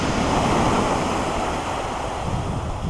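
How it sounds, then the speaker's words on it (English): Sea waves crash and roll onto a North Norfolk beach at Salthouse, a loud, continuous surf roar mixed with wind buffeting the microphone, with no voices. "the waves and that are crashing it a bit"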